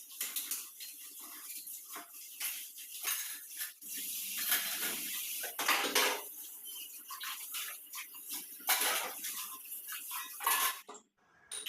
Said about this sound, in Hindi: तो बर्तन साफ़ हो चुके हैं